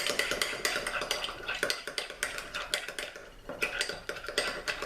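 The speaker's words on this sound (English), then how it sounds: "Add the ketchup, give this a nice stir." Spoon stirring ketchup and mayonnaise together in a bowl for a french fry dipping sauce, a quick run of close scraping and clinking strokes against the dish with a brief pause midway; no talking.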